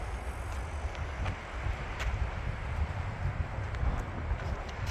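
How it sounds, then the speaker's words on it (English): Steady wind gusting across a mountain hiking trail near Albuquerque, a dense low roar with rustling, alone and fairly loud throughout. "I don't know if you can hear that wind. It's kind of ominous."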